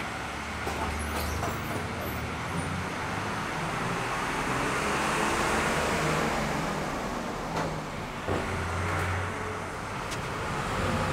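Bangkok city bus number 53 rumbles through dense traffic around the Chinatown gate and along Yaowarat Road, a steady loud engine drone with road noise and passing vehicles, heard from a window seat inside with no talking.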